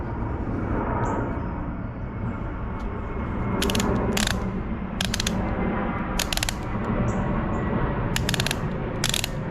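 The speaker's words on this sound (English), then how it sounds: "got inch-pound torque wrench here" An inch-pound torque wrench ratcheting in bursts of rapid clicking, several short runs separated by pauses, close up over a steady background hum.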